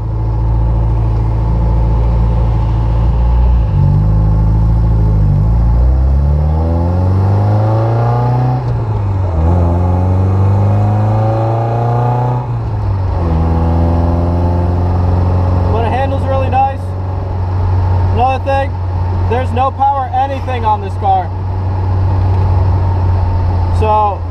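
A 1973 Jensen Healey with a Lotus 907 engine idles and revs in repeated rising and falling sweeps, loud and close, before settling back to a steady idle, with someone talking over parts of it.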